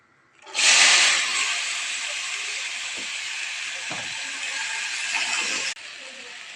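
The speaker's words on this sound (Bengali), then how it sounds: "কড়াইতে তেল গরম হয়ে গেছে, দিয়ে দেবো শুকনো লঙ্কা ফোড়ন" Dried red chillies hit hot oil in a wok, bursting into a loud, close sizzling hiss that stays steady for several seconds before dropping abruptly to a quieter crackle.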